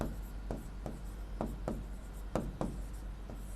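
Chalk or marker strokes on a classroom board during a geography lesson, a series of short scratchy scrapes spaced about every half second, close and fairly quiet with no talking.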